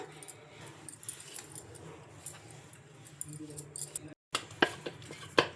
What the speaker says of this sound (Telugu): ఇంకా ఈ శనగపిండి కూడా వేసుకొని మొత్తం ఇలా బాగా కలుపుకోవాలి, అంతా బాగా కలిసిపోయేలాగా